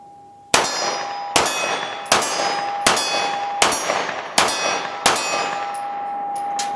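Seven sharp metallic clangs ring out at roughly even intervals as 9mm rounds from a Kimber double-stack EDC pistol strike a steel target, each hit leaving a bright, sustained ring with no talking.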